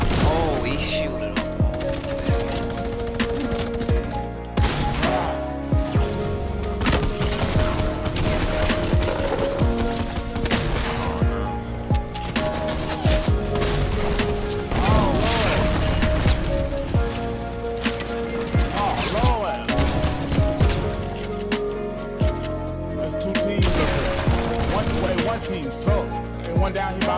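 Enemy gunfire in a video game crackles in rapid bursts and scattered volleys, dense and fairly loud, while players talk over it.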